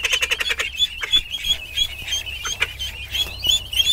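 Call duck ducklings on a farm give a rapid series of high, thin peeping calls. The calls repeat close by over faint background noise.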